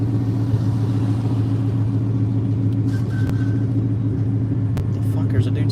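A Coyote V8-swapped Cobra sits with its engine rumbling in a steady, low idle, close and loud, with a brief faint tone partway through.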